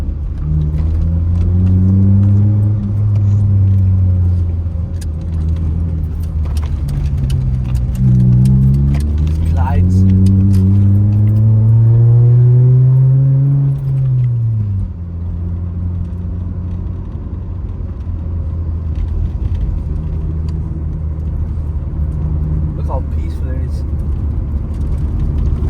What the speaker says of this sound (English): you get me driving through with my loud exhaust